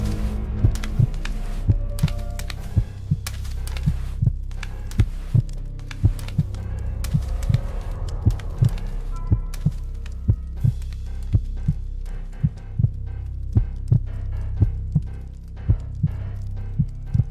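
Heartbeat sound effect from a horror pyramid exploration video game, heard as a steady run of low thumping beats over a continuous dark hum, with no voices.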